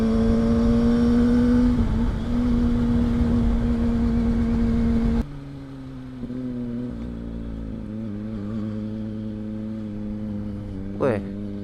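A road vehicle's engine hums steadily and loudly, then shifts to a lower, smoother drone as it picks up speed, with a brief rising whine near the end.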